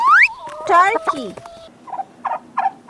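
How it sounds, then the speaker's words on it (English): A turkey gobbles in a rapid, warbling burst near the start, followed by a few softer clucking notes spaced out over the next second, heard up close with no talking. "Turkey."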